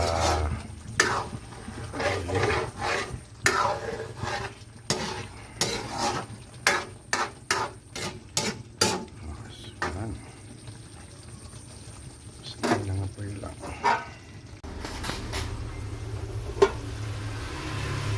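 Laing, taro leaves in coconut milk, frying and sizzling in oil in a pan while being stirred, with a steady low sizzle broken by repeated sharp scraping strokes of the spoon against the pan, close and fairly clear.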